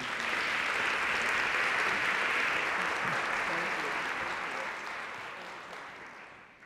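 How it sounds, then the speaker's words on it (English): An audience at an International Women's Day forum claps steadily for a panel, a dense, even wash of applause that slowly tapers toward the end. "how about a big round of applause for our panel?"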